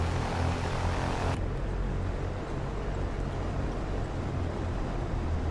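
A propeller airplane in X-Plane 11 descends with a steady droning engine and airflow, loud and continuous. A brighter hiss drops away early and a constant low rumble is left, with no voices.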